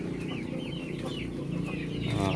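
Several free-range chickens, including Rhode Island Reds, cluck and murmur continuously close by in a breeding area, with overlapping soft calls over a low farmyard hum.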